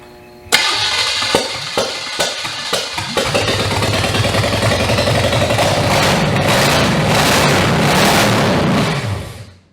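A junkyard GM engine cranks in several short pulses, then catches and roars into a loud, steady run that holds for several seconds before cutting off abruptly.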